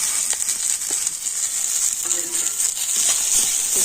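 Chopped tomato goes into a pan of onions already fried until reddish, and a steady close sizzle hisses throughout with a few soft stirring knocks.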